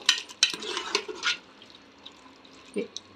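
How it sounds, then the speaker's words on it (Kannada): Wet scraping and stirring of chopped chicken for donne biryani in a pot over high flame, several quick strokes early then quieter, with faint watery splashes and clinks. "ಒಂದ್ಸರಿ ತಿರುಗಿಸೋಣ"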